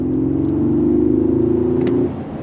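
A 2025 Mercedes-Benz G580 G-Wagen pulls hard on full throttle, its electric drive giving a loud, steady whirring drone that rises evenly before easing off near the end, with no voices.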